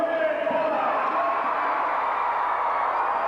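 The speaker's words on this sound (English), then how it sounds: "The crowd cheering the king of the monster truck, Bigfoot" A large crowd cheers and roars continuously for the Bigfoot monster truck after it wins a 1990 monster truck race, a dense sustained wash of voices with no clear pauses.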